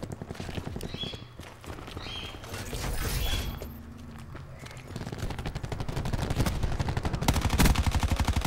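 Gunfire in Black Ops, with rapid automatic bursts rattling fairly close and growing denser and louder toward the end, mixed with mechanical clatter and game ambience.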